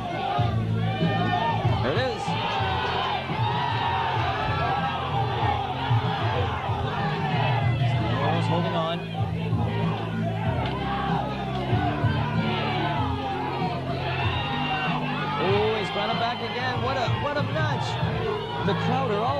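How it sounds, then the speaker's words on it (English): A packed crowd at an arm wrestling match roars and chatters continuously, with whoops and shouts rising over a dense wall of excited voices while a commentator talks over it. "The crowd are all up on their feet."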